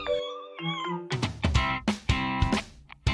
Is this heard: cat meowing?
yes